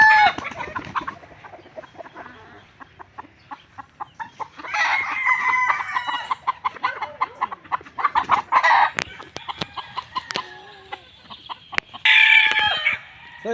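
Super brown red gamefowl roosters at a game farm crow and cluck repeatedly, several loud close calls overlapping with bursts of clucking and sharp bird noises across the whole stretch.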